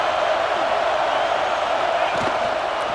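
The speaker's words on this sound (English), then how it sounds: "This crowd is trying to inspire this defense to make a big red zone stop." A stadium crowd in a Notre Dame college football video game roars in a constant, dense wall of noise with no breaks.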